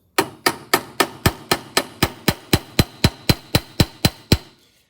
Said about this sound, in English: we can come in using this side of the ball peen hammer to begin with and swell it in